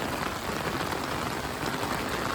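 Steady, dense rain in rural Australia pattering on a surface, an even hiss of countless drops with no pauses or voices.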